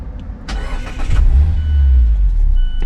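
A 2020 Mazda MX-5 Miata RF engine cranks over with a brief clatter, then catches and settles into a steady, low, close-up idle rumble.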